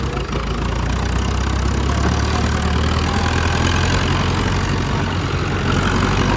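A vintage David Brown Cropmaster tractor engine runs continuously at close range while driving, a steady, rumbling low mechanical drone holding even throughout with no talking.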